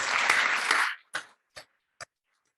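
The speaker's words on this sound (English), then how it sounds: "So let's give them a round of applause." A burst of conference audience applause, loud clapping for about a second, then dying out into a few scattered final claps.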